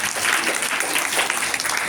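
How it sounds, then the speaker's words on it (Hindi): Steady applause from an audience at an annual prize-giving ceremony of a religious school, dense clapping holding at an even level throughout with no pauses. "तालियां भाई अबूजर के लिए।"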